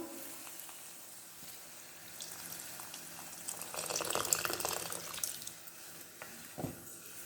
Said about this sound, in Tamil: இப்போ இதுக்கு தண்ணி ஊற்றலாங்க, இது வேகிறதுக்கு மட்டும்.